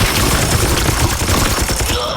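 Dense, sustained automatic gunfire in the Warhammer 40,000: Chaos Gate video game rattles loud and continuous as an enemy is shot, with rapid overlapping bursts and no pauses.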